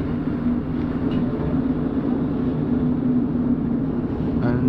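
Train on the St Ives branch line to Lelant Saltings pulling into the station, a loud, steady onboard rumble of wheels and carriage hum with no voices.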